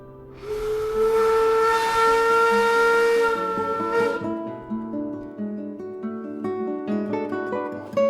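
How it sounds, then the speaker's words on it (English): Steam whistles on the restored paddle steamer PS Melbourne, including one carried from the Gem at Swan Hill, blown in turn: a loud, sustained harmonic wail that changes pitch partway through as the second whistle takes over, ringing on with a rich tone. "we're just blowing alternately each whistle"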